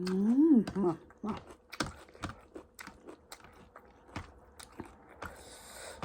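Close, wet chewing and biting as food is eaten by hand, with irregular crunchy mouth clicks and smacks spread across the clip, a brief hummed vocal at the start.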